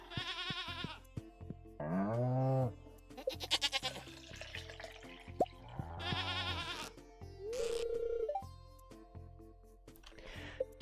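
A farm goat in Stardew Valley gives several short bleats with quiet pauses between them, set against soft looping game music and chimes.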